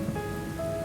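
Steady rain falls in the video game Mandemon, a faint, even hiss of drops on surfaces with a soft tonal hum underneath.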